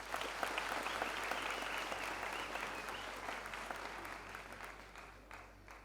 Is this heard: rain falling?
no